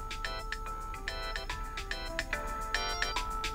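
A phone ringtone trills in repeated bursts of bright electronic tones, a steady rhythmic pattern that fills the short span, close and clear with no talking.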